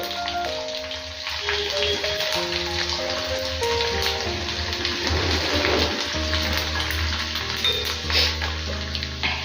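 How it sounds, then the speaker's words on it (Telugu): Crushed garlic cloves frying in oil in a pan: a continuous close, busy crackling sizzle that holds steady for the whole stretch, with no voices. "వెల్లుల్లి ఇలా ఆయిల్లో ఫ్రై అవుతుంటే మంచి ఎర్రమ వస్తుంది చూడండి"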